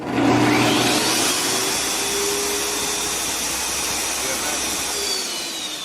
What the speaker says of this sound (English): and now you have a little vacuum.